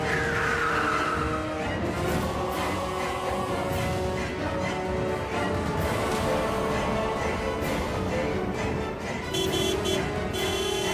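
Car tires screech loudly as a vehicle brakes hard near a pedestrian on a road, a sharp squeal at the start giving way to rough engine and traffic noise that continues throughout.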